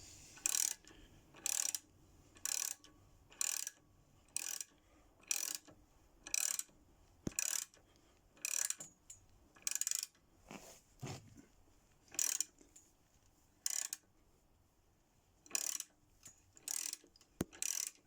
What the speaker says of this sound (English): this is the bush going into the axle